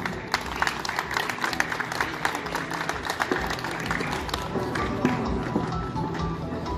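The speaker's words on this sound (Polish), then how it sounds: "Gorące brawa." A crowd at a junior football awards ceremony applauds a second-place goalkeeper, a steady dense patter of many hands mixed with scattered louder claps that carries on without a break.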